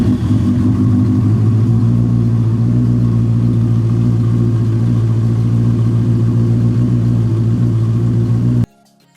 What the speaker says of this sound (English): I'll be adding a clip here so you can hear the sound of this bike.